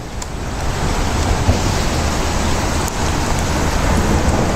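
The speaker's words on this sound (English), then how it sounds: "try to get close to the river so you can hear the ice moving" Spring river ice shifting and grinding under bridges in Port Huron, Michigan, heard as a steady, dense rushing wash with no clear individual cracks, close and fairly loud throughout.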